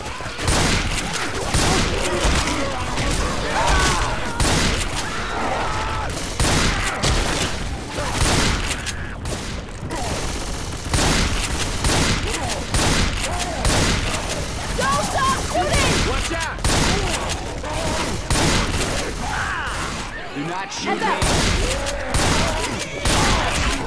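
Rapid, dense gunfire fills a Left 4 Dead 2 match on the Wan Li custom map, loud and nearly continuous bursts with brief pauses and a voice talking over it.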